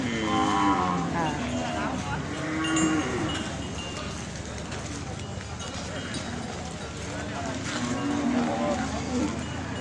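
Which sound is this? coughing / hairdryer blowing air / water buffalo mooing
water buffalo mooing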